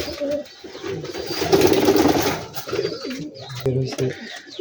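Giribaz pigeons of the Rajshahi type coo in low, rolling bursts close by, mixed with someone talking over them.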